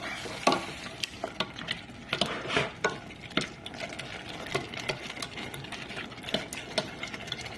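A spoon stirs two spoonfuls of yogurt into a mixture for rice kabli, giving repeated soft scraping and clinking strokes in an irregular rhythm, close and fairly quiet, with no voices.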